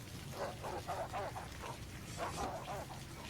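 Dog barking in a B-movie, repeated yapping barks over a dense noisy background, several quick bursts in succession at moderate level.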